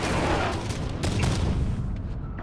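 Rapid burst of scattershot weapon fire in the Halo 5: Guardians video game, dense crackling shots packed close together and loud throughout, with no talk.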